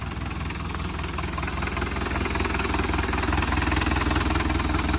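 A heavy Sonalika 60 tractor engine idles steadily nearby, its low rhythmic knocking and rumble continuing without pause.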